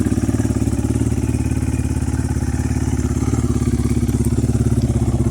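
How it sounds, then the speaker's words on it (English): A 2023 GPX 300 R FSE motorcycle idling after a cold start on automatic choke, its engine pulsing in a fast, even, steady rhythm, close and fairly loud with no talk over it. "It's a lovely quiet engine."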